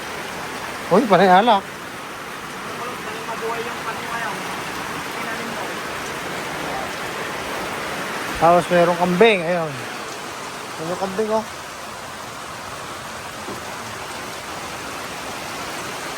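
Steady rain falling outdoors on a street in Dingalan, Aurora, a constant even hiss throughout, with people talking over it in short bursts.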